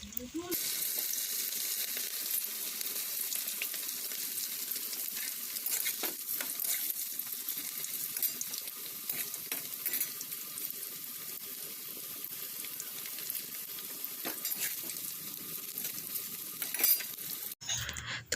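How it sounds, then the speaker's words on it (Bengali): Pakoras dropped one by one into hot oil for deep-frying, giving a steady, close bubbling sizzle that runs almost unbroken throughout, with a brief clatter near the end. "আর তেল দেখো গরম হয়ে গেছে, একটা একটা করে ডুবো তেলে আমি ভেজে নেবো।"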